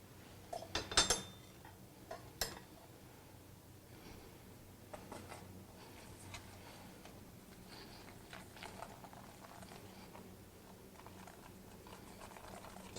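A utensil scrapes and taps against a pot while an egg mixture for pastry cream is stirred, with a few sharp clinks at first, then softer irregular scraping and ticking.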